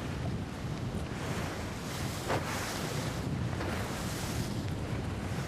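Steady wind rushing over open water during a skûtsje sailing race at Ychtenbrêge, a constant broadband roar with low gusty buffeting and a faint wash of waves, no voices.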